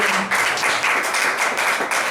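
Church congregation applauding in a sustained wash of clapping, loud and dense, with rhythmic surges of many hands through the whole stretch.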